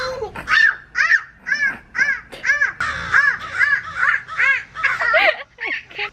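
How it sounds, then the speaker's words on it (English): Crows caw repeatedly outdoors in loud, harsh rhythmic calls, close by, with a few overlapping squawks through the stretch. "now these birds are annoying me"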